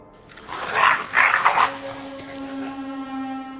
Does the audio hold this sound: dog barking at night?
yes